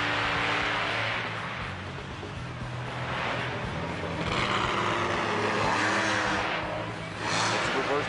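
The Bulldozer monster truck's engine roars and revs at a stadium freestyle show at the Monster Jam World Finals, loud and continuous with surging pitch as it fishtails, under crowd noise.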